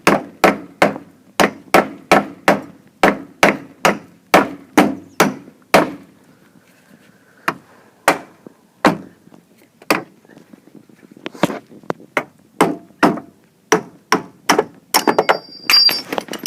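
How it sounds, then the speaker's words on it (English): Sharp metal hammer strikes ring out as a pin is driven into a 1993 Jeep Cherokee XJ door, quick rhythmic runs, a pause, then more irregular blows, loud and close. "that's the pin. Hammer it up."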